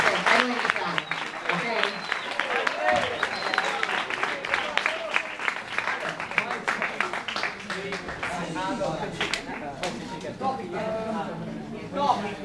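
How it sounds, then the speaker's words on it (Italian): Applause from a school audience in an assembly hall before a debate, sustained clapping mixed with chatter and voices throughout, fairly close and lively. "Adesso magari gli fate un applauso iniziale e poi uno alla fine."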